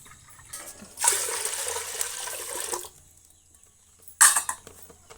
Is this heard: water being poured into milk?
yes